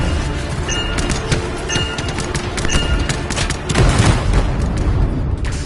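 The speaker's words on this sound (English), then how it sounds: "Explosives ready. Stand clear for detonation." A detonation in the video game Anthem at a foundry, heard as a dense, loud burst of crashing blasts and crackling debris, with a heavier swell near the end.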